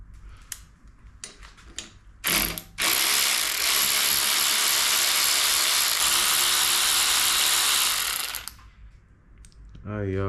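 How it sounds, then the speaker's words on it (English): A ratchet wrench works on a mini bike's handlebar brake lever, giving a loud, sustained mechanical rattle that runs for several seconds after a few short clicks, with brief light sounds around it. "Now we got the brake off."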